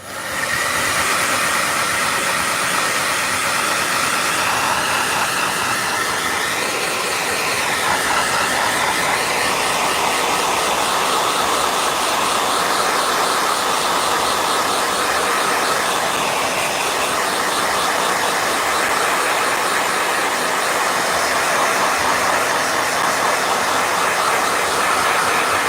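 A blow dryer runs steadily and loudly for the whole stretch, a constant broadband whooshing hiss with no pauses and no talking over it.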